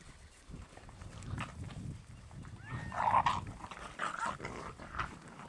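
Nine-week-old lion hound puppies near horses give short yips, whines and small growls over outdoor background noise, with a louder cluster of whimpers midway.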